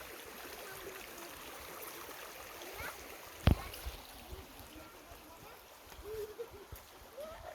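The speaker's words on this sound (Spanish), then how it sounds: "Qué rico estar cerca del río." A river runs in a shaded mountain ravine at Xecnup, Joyabaj, a constant rushing wash with a sharp splash or knock partway through and a few faint chirps near the end.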